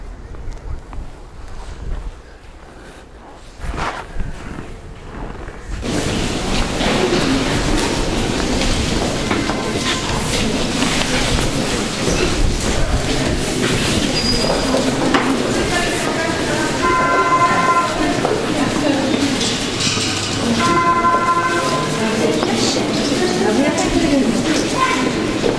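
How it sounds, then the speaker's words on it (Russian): Loud, steady rumble and clatter of a metro train in motion in Kazan, with a brief quieter stretch before it surges; voices murmur faintly beneath the noise. "Сейчас сядем на метро, проедемся одну остановку на тот берег реки"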